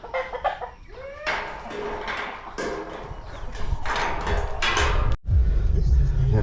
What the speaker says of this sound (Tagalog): Dami na yung mga manok.